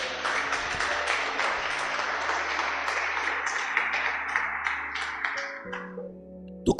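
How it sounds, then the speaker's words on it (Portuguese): A church congregation applauds in a sustained burst of clapping for several seconds, then it thins out and fades, leaving a quiet room with a low hum and a final thump. "Você pode dar um aplauso por isso?"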